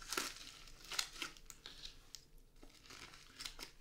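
Bubble wrap and packaging crinkle and rustle as a parcel holding a Colmi P8 smartwatch is opened, quiet close-up bursts of crumpling plastic with short pauses between handfuls.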